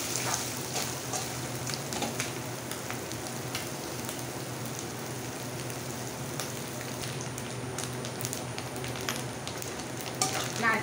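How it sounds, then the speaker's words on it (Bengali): Grated coconut frying in a pan gives off a steady, close crackling sizzle with scattered sharper pops, continuing evenly for about eleven seconds with no one talking. "নারকেলটা আমি একটু লাল লাল করে ভেজে নেব।"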